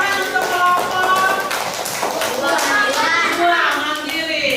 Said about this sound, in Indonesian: Tepuk tangan dong. Tepuk tangan untuk kelompok